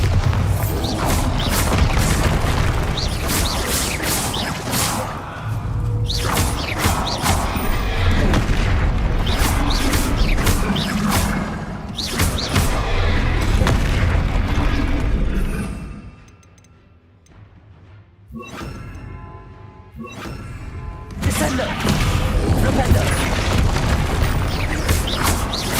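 Repeated Bombarda spell explosions from Hogwarts Legacy, heavy booms and crashing blasts in loud bursts across most of the stretch, with a quieter ticking, mechanical lull in the middle before the blasts resume.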